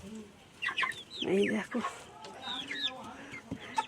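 Chickens cluck in a village yard, with several short, close calls in uneven bursts over steady outdoor background noise while someone speaks briefly nearby.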